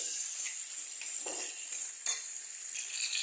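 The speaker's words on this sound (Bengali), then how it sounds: "আঁচটাকে বাড়িয়ে দিয়ে এটাকে 3 থেকে 4 মিনিট এরকমভাবে কষাতে হবে" Mutton masala being stirred and fried over high heat, with a soft continuous sizzle under occasional spoon scrapes and clinks against the pan. It is close and fairly quiet, with no talking.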